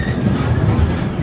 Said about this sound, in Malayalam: WG9 10:55 ട്രെയിൻ ഇതാ കാഞ്ചീപുരം റെയിൽവേ സ്റ്റേഷനിലേക്ക് എത്തുകയാണ്.